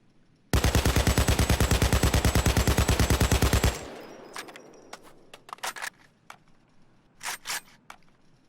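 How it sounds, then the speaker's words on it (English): AKM assault rifle in Payday 2 firing a long full-auto burst of rapid, evenly spaced loud shots for about three seconds, then a tail of scattered clinks and mechanical clicks. "I am going to let it go full auto without doing anything."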